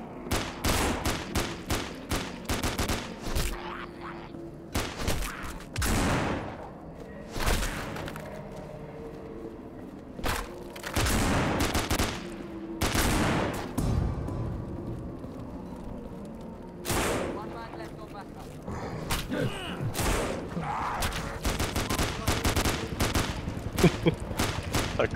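Gunfire in the zombie game No More Room In Hell: sharp, loud shots in bursts and single cracks spread across the clip, some rapid strings, with quieter gaps of background rumble between them.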